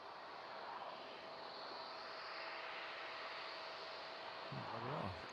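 A DHL Boeing 757 arriving at East Midlands Airport from Reykjavik, its engines a broad, distant roar heard as continuous faint rushing noise that swells slightly near the end.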